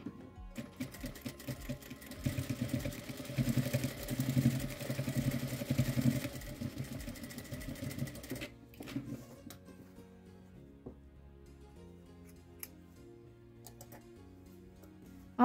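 A sewing machine stitches fabric in a fast, steady rhythmic clatter for about eight seconds, then stops, leaving quiet handling noises and a few scattered ticks.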